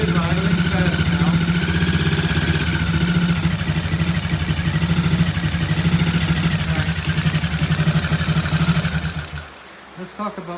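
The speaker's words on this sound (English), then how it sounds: "There it is idling fast now." Triumph T20M motorcycle engine fitted with a monoblock carburettor idles fast and steadily, a close, continuous mechanical run with a whirring fan in the background, until it cuts off sharply near the end.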